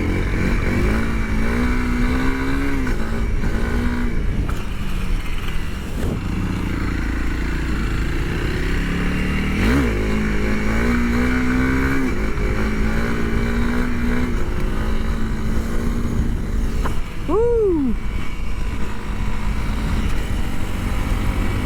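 A 2022 Honda CRF300L motorcycle engine runs loud and close throughout while being ridden, holding a steady drone with a few revs rising and falling and one sharp rev spike near the end.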